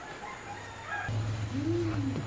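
Chickens cluck in the background while a rooster crows once, a rising and falling call in the second half, fairly close and moderately loud over a steady low hum.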